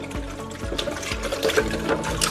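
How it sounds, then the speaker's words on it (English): Warm soapy water pours into a plastic micro honey harvester, a close, continuous splashing and gurgling with rhythmic low thumps as the stream hits the container. "we just need some warm soapy water"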